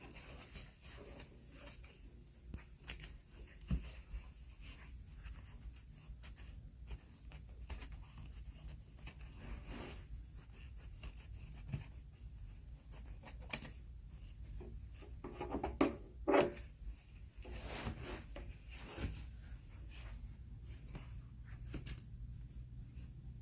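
Fabric shears cut through cloth for fall porch decor, a quiet close sequence of soft crunching snips and rubbing scrapes with a few sharper clicks, alone without talk.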